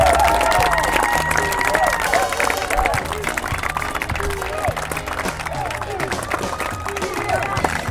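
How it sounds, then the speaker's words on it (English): A large crowd at an evening football match between POFC and Sharktopus FC, a dense steady babble of many voices filling the stadium with scattered cheers and claps, loud and continuous throughout. "Got a big crowd tonight."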